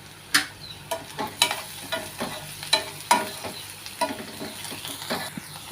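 Onions and prawns fry in a pan for a prawn curry, sizzling steadily while a utensil stirs with repeated scraping clacks at an uneven rhythm, close and alone.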